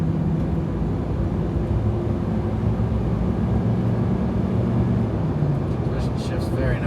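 A lifted 1994 Ford Bronco XLT drives along, its strong engine giving off a steady, deep drone with a smooth low hum that runs throughout, and a voice speaks briefly near the end.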